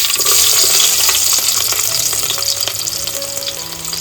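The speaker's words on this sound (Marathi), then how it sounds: "मस्त तेलामध्ये लसूण फ्राय झाले" Garlic frying in hot oil in a cooking pot for a Konkan-style crab curry, giving a loud, steady, close sizzle with faint stirring scrapes and no talk.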